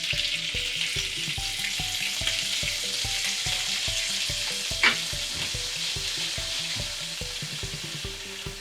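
Anchovies packed in oil and crushed red pepper flakes fry in a pan of hot oil for pasta, giving a steady close sizzle with regular stirring clatter and one sharper knock partway through, no talking.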